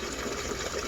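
Water gushes steadily into a collapsible 1.5-gallon watering can, a continuous close rushing fill with no talk.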